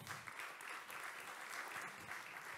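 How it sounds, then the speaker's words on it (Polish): An audience applauds the participants of a conference panel, a quiet, even patter of clapping heard from a distance throughout. "Pani Agnieszka Kołakowska, wielkie brawa."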